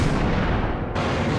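Rifle fire in the 2001 PC game Max Payne, a loud, dense burst of blasting and booming at close range that cuts off sharply partway through, with no talk.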